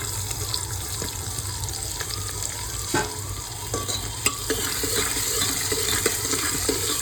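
Onion tipped into hot oil with green chillies and curry leaves sizzles steadily up close, with occasional spoon clicks and stirring scrapes over the continuous frying hiss.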